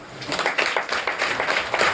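An audience claps together at a church youth gathering, a quick, steady run of claps that fills the room for a couple of seconds with no talking over it.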